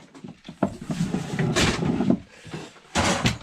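Drawers of a vintage tackle box slide out with a few scraping, clunking knocks and rattles, close and fairly loud, in a quiet salvaged basement setting.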